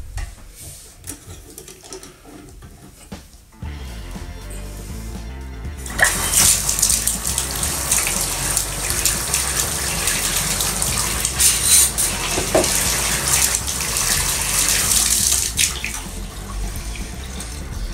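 Tap water runs into a bathtub drain during clog clearing with a drain snake, starting as faint trickling and handling noises, then rising into a loud, steady gush from about six seconds on.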